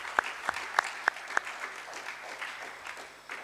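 A small audience at a university-campus election debate claps for the speakers: a handful of distinct, evenly spaced claps at first, then a softer spread of applause that fades quickly.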